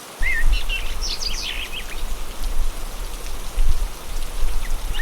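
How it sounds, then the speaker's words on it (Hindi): Light rain falling steadily outdoors in a soft, even patter, with chirping birds in the background. "अगली सुबह जब वो लोग उठे तो हल्की हल्की बारिश हो रही थी"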